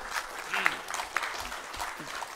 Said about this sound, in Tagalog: Ngayon lang ako naka-receive ng palakpak dito pa sa Baguio